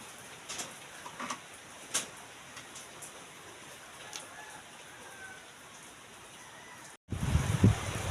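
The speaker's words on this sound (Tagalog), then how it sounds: "Lakas na naman ang ulan." Heavy rain falls steadily at a construction site, a dense hiss with scattered louder drips and splashes, then a sudden close rustle and knock at the end; no talk.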